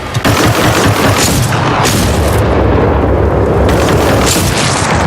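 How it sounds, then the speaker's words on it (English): Grenade blast and heavy gunfire in the Titanfall 2 shooter game, a dense, loud, continuous barrage of booms and shots with no speech. "Grenade out!"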